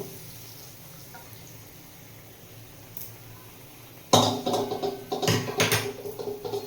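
Fried kundri vegetables tumble into a kadai after four quiet seconds, setting off a sudden loud burst of rattling, scraping and sizzling that keeps going in uneven clattering surges, close and with no voices.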